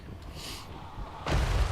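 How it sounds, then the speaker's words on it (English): A Skull Cannon in Total War: Warhammer III fires with a loud, sudden booming blast near the end, after a quieter stretch of battle ambience. "even firing from downtown here, it is actually hitting the Black Orcs pretty confidently, doing some big damage to these guys with the Vortex"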